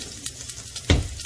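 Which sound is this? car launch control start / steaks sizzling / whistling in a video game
steaks sizzling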